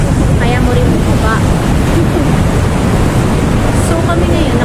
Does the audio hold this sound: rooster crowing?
no